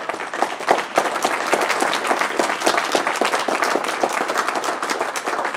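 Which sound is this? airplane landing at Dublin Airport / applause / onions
applause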